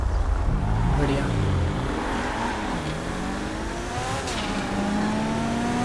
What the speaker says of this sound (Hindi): अब इस गाड़ी की टर्बो भी पहले से अच्छी काम कर रही है दोस्तों